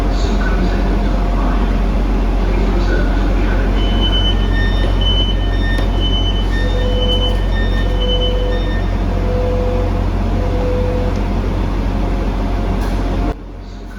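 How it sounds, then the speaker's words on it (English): Train pulling into Cardiff Central platform, a loud steady rumble of wheels and motors with repeated short tonal beeps and chimes, ending in a sudden drop as it comes to a stop. "Having set off from Holyhead at 11:33, the Premier service terminates on platform 4 at 16:15."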